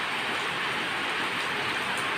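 Steady rain falling in a dense, even hiss that stays constant and fairly loud throughout, with no voices or other sounds on top.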